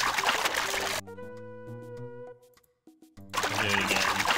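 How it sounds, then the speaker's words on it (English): A dog lapping water in a point-and-click adventure game, a short run of wet trickling laps between stretches of game music, fairly close and clear. "Lockjaw takes a drink."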